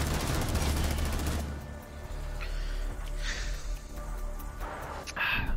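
Auto shotgun fire in a multiplayer shooter video game: a dense, loud rapid volley of blasts at the start, then a quieter stretch of scattered game sounds.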